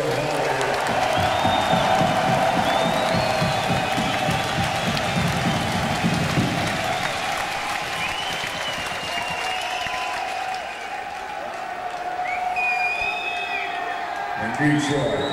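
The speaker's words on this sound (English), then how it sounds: "Let's get a round of applause for every band on this motherfucking bill" A crowd at a live metal show in Detroit applauds and cheers across the full fifteen seconds, loud and sustained, with whoops rising above the clapping and a voice speaking over it in places.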